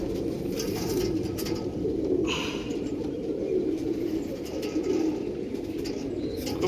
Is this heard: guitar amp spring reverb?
no